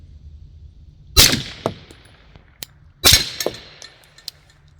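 Two loud shots from a suppressed Beretta 92 pistol fired at a steel target, each a sharp crack trailed by a bright metallic ring, a couple of seconds apart, with faint clinks and ticks between them.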